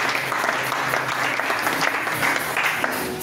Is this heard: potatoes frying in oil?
no